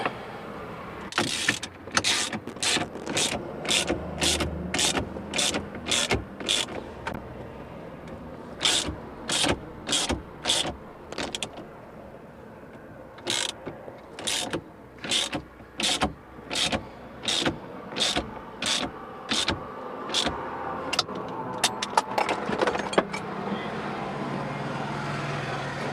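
A steering wheel is being set onto a quick release hub, making repeated sharp mechanical clicks and ratcheting bursts in quick runs separated by short pauses, close by.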